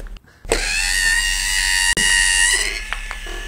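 A homemade DIY sweeping robot built from scrap parts. Its small electric motor starts with a clunk, then whines steadily and loudly at close range, broken by a brief knock midway and a few clicks near the end.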